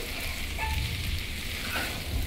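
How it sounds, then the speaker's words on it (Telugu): Potatoes frying in a pan for a ginger-chili aloo fry, a steady close crackling sizzle with faint scraping of a spoon, no voices. "కొంచెం లైట్గా వేగింది"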